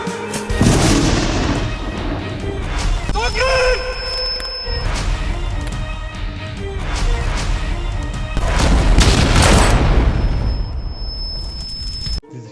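A bomb goes off in a Turkish police TV drama, heavy booming blasts and rumbling debris filling the scene, with a second surge of noise building later amid the chaos.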